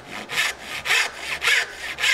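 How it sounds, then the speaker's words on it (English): Hand saw cutting a wooden dovetail joint, rhythmic back-and-forth rasping strokes about four in two seconds, close and clear with no talking. "sawing on the other side of the line."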